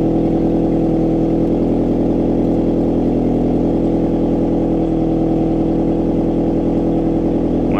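A rebuilt 2.5-litre four-cylinder engine in a 2003 Nissan Altima runs steadily at its first start-up, still without an exhaust manifold, giving a close, even, loud mechanical drone with a fine pulsing texture and no speech.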